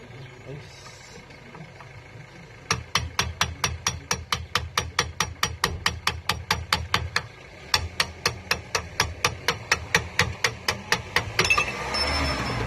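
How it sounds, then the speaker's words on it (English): Steady metal hammer blows on a Triumph Spitfire 1500 drive shaft, about two per second, in two long runs with a brief pause between, close and sharp against quiet background hum. "Then we shall use the hammer and this."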